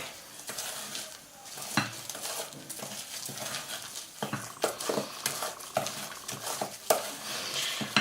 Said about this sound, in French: On mélange de bas en haut et de haut en bas avec amour.